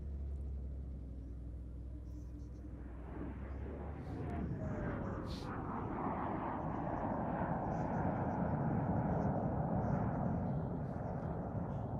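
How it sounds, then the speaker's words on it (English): A jet airplane with a Rolls-Royce Avon engine at an air show roars past, its deep rumble swelling and then holding loud and broad as it passes, with a voice faintly audible underneath. "That is such a beautiful airplane."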